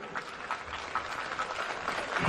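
An audience at a Hindi poetry gathering applauds, a fairly quiet, even patter of clapping heard from a distance and lasting only a couple of seconds.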